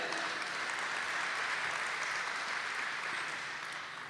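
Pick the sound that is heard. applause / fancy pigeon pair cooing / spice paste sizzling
applause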